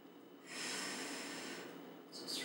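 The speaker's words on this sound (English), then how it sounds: "Inhale." A long audible inhale through the nose during a Pilates workout, a soft airy breath lasting about one and a half seconds, then a second short breath right at the end, with no talking over it.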